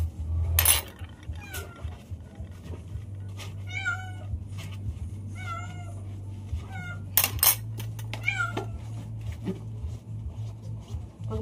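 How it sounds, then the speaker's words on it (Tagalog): A cat meows several times in a row, close and clear, against a steady low hum, clinking dishes and the sound of water in a home kitchen. "May pusa dito eh."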